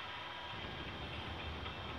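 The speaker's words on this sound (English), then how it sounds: "We got a freight train coming." A CN freight train approaching at night at a level crossing in Burlington, Ontario, a steady broad rumble of rail cars rolling along the track, continuous and fairly distant with no talk over it.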